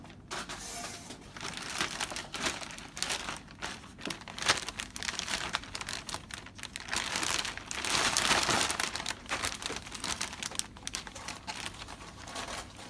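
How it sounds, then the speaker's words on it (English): Plastic sheet being handled and fed through a bag sealer while making airway packs, an irregular run of close crinkling and rustling with brief louder bursts, quiet overall. "put the edge of the plastic through the sealer"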